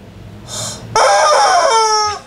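A rooster sound effect crows once, loud and close, a bright drawn-out cock-a-doodle-doo that ends in a falling tail, with no voices heard.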